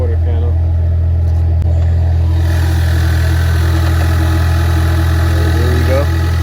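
A Dodge Hellcat with body and suspension damage idles at a salvage auction yard, a deep steady rumble with a low droning hum that stays constant throughout, while a person talks over it.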